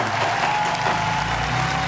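A short burst of clapping from students in a classroom during a mathematics lesson, even and moderately loud, with a steady hum under it.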